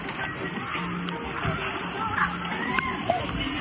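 Water splashes and sloshes steadily at a family water park ride, a close, continuous wash of falling and churning water with a few brief voices and clicks mixed in.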